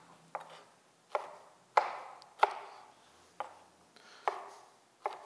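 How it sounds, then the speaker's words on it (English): Knife chopping pineapple into inch-size pieces on a cutting board: seven crisp, evenly spaced knocks, each a sharp blade strike against the board, close and fairly quiet with near silence between them. "I'm going to cut them so that they're about an inch or so."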